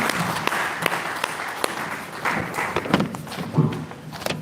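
A university ceremony audience claps for the Vice Chancellor in a hall, with a few sharp nearby claps and a few thumps standing out from steady, moderately loud applause, and faint voices beneath it.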